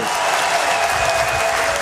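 Applause at a Yanga (Young Africans) club general meeting in Dar es Salaam: a dense, sustained round of clapping from a large crowd fills the short moment.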